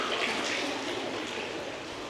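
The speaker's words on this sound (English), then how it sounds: "and a water feature." A courtyard fountain water feature splashes steadily at moderate distance, a continuous broadband wash of falling water with no voices over it.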